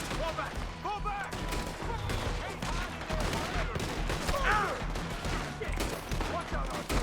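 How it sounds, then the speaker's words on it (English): A Red Dead Redemption 2 shootout rattles with repeated gunfire, a dense fusillade of rifle and pistol shots mixed with shouted voices throughout the whole stretch. "Just keep shooting!"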